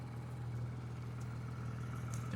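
A Porsche GT3 Touring engine runs with a low, steady hum heard from inside the car, faint and even with no strong revs.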